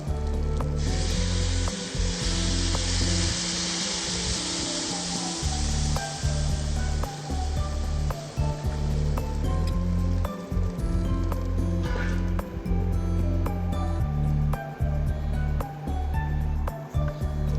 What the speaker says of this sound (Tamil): இப்போ புளி கரைசலை எடுத்து ஊற்றிக்கலாம்